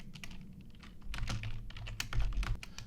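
Quick bursts of keystrokes on a computer keyboard as a name is typed, a close, crisp, irregular clatter of several taps that stands alone without talk.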